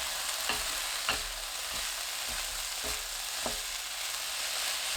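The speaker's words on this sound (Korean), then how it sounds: "멸치 액젓 한 큰술 넣고 30초 볶습니다." Cabbage stir-frying over medium heat with a spoonful of anchovy fish sauce, a steady close sizzle broken by regular spatula scrapes and taps against the pan, with no talking.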